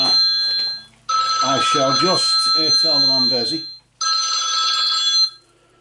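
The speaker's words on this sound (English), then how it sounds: "Just one moment, we've got a phone call." An old-style telephone bell rings in two long bursts indoors for an incoming call, loud and close, with someone speaking over the first ring.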